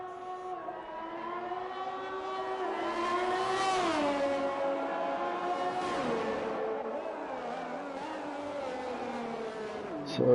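GP2 race cars in a racing video game, high-pitched engines whining loudly past, pitch rising and falling as they accelerate and shift, with several cars overlapping in a continuous drone.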